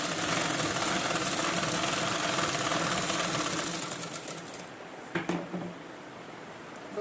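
Sewing machine running steadily while stitching the collar of a school uniform coat, a continuous buzzing whir that cuts out partway, followed by a few brief clicks and handling sounds.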